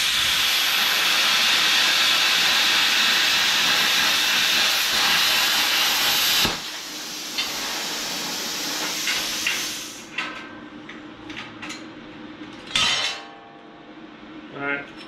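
Bestarc BTC500DP plasma cutter slicing quarter-inch steel at 46 amps, a loud steady hissing roar for several seconds that cuts off abruptly, followed by quieter clinks and scattered hisses.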